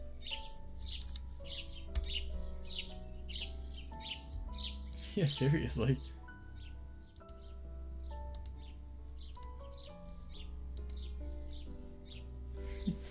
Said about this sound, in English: why are these birds so loud?